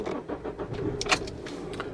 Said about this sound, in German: So, und jetzt lassen wir den Motor an.